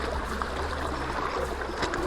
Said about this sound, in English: we've just come down to this creek, and as you can see, it's super flooded